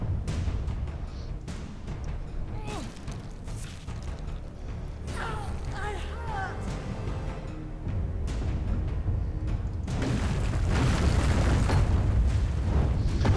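Booming cannon blasts in Alice: Madness Returns, with several heavy bursts amid dense, continuous game noise and music that grows louder toward the end.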